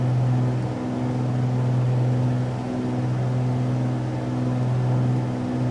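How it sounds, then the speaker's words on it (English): Steady aircraft engine drone from Microsoft Flight Simulator 2024, a constant low hum with a droning tone that stays loud and unchanging throughout, with no speech over it. "engine sounds are now overpowering my voice."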